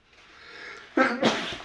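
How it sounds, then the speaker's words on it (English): A single sharp sneeze, preceded by a quick intake of breath, close and fairly soft. "I don't know why I'm sneezing."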